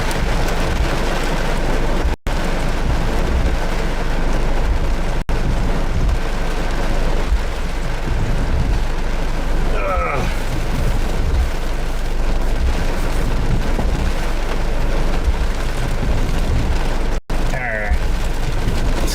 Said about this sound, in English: We're just sitting here in the rain for a moment.